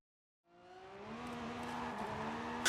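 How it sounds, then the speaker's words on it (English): All-wheel drive car launching in the Forza Horizon racing game, its engine note rising steadily from silence into a strong, climbing roar, close and alone. "No issues on the launch thanks to the all-wheel drive system."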